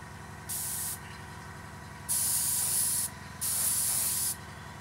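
An airbrush spraying paint onto a Revell 1/48 Junkers Ju52/3m scale model aircraft, three short hissing bursts of varying length over a low steady compressor hum.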